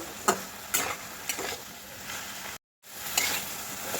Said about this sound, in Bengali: মটরশুঁটি দিয়ে আবারও একটু নেড়ে চেড়ে দেব